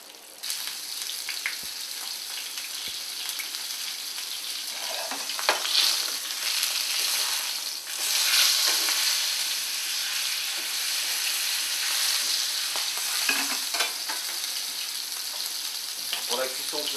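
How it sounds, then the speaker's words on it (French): Beef fillet sears in a hot pan, giving a steady, loud hiss and crackle that runs the whole time, close up, with a few faint clicks and clatters of the pan. "on va faire cuire la viande un tout petit peu avant"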